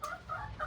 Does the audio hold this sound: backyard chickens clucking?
yes